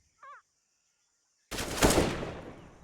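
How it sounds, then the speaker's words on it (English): Gunfire in CS:GO erupts suddenly as a loud burst of shots that decays slowly, after a brief chirp and near silence. "Shots ring out"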